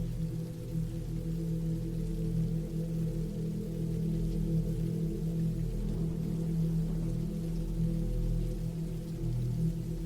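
Steady rain falls continuously and evenly, a dense, constant wash of drops with no voices over it.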